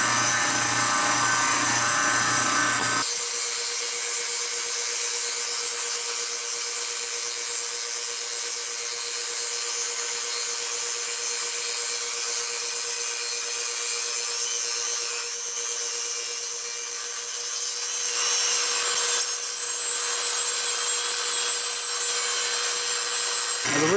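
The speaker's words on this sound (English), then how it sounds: "this is our surface planer for the day" A surface planer works a wooden wheel spoke for a 1929 Willys Whippet, a loud steady machine drone with a constant hum, the pitch shifting slightly as the wood is fed through.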